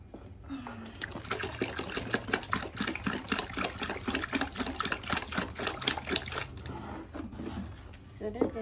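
Water runs into a container being filled while making liquid soap, a continuous trickling splash with small irregular gurgles, close and moderately loud.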